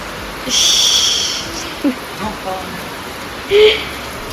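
A soft, steady patter of rain runs throughout, with brief tonal whines and a short voice-like sound rising above it.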